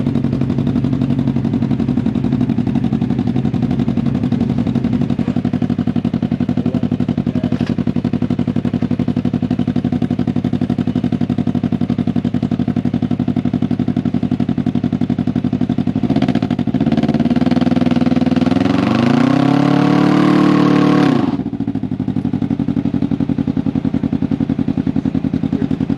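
A Can-Am Ryker with a new aftermarket exhaust idles with a steady throbbing rumble, then gets a throttle blip that swells into a loud rising rev before dropping back to idle.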